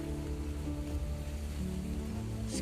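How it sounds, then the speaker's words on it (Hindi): A flowing mountain stream on the Kedarnath trek in overcast weather, heard as a steady, dense rush of water that stays even and fairly close throughout, with no voices. "कल कल करते इस पानी की आवाज़ शायद आप सुन पाएं।"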